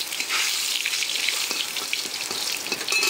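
Bay leaf crackles in hot oil, a steady bright sizzle with busy popping and spitting that holds at an even level throughout.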